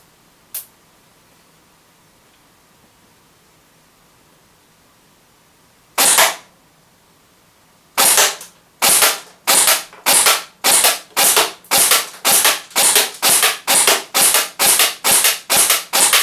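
Arrow Dynamic Arms A9 airsoft SMG fired from a standing position without a stock: one early crack, a lone shot, then a steady string of loud, evenly spaced semi-auto shots, alone with no talk.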